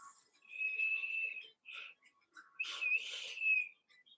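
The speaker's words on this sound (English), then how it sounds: "This was a great vape. Whistles." A vape atomizer on The Reckoning RDA from Immortal Armageddon mods whistles in several thin, high, sustained tones during draws, separated by short gaps and fairly close.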